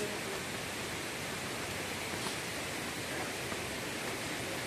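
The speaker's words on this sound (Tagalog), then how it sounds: "Ayan na yung falls." Steady broadband rush of Inlagadian Falls waterfall, a constant roaring wash of falling water heard alone with no clear pauses.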